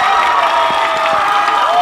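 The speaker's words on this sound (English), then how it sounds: "And the crowd goes wild as our first score comes across the plate." High school baseball crowd in the stands at Arcadia cheering and clapping as the first run crosses the plate, a bright, sustained roar of voices with scattered shouts and no pauses.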